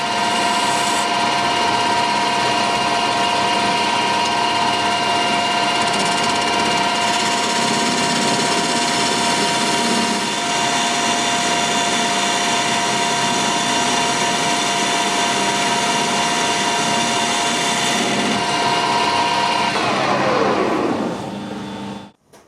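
Aluminium slug being turned with a high-speed steel tool on a lathe: a loud, steady machining whine with a sustained tone that runs continuously, then winds down as the spindle stops near the end.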